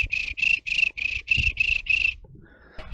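A person whistles an imitation of a cricket, seven rapid trilled chirps in a steady rhythm, close and clear, ending in a brief pause with faint rustling.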